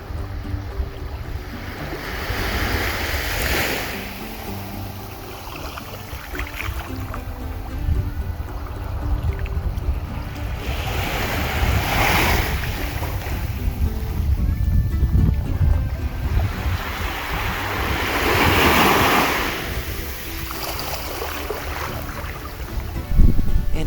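Surf from an incoming tide washes onto a beach lined with bungalows, with several broad, swelling wave surges rising and falling over a steady roar of water and wind, fairly close and continuous, with no voices.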